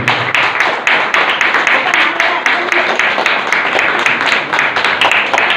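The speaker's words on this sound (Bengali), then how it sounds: "ভারী ভারী সুন্দর করতালি, মিষ্টি আওয়াজ" An auditorium audience claps steadily at an award ceremony, a loud, even stream of many hands applauding up close with no break.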